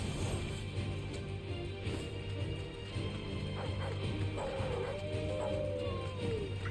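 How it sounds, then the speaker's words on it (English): Dogs in the video game Final Fantasy XVI yip, whimper and whine, with a few rising and falling cries near the end, over a busy game soundscape. "Shut up, dogs."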